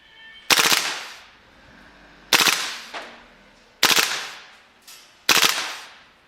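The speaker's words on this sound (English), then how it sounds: "I'm going to take it to full auto and watch this thing move." KWA LM4 gas blowback airsoft rifle firing full auto, four short loud bursts of rapid mechanical cracks with brief pauses between them, close and alone.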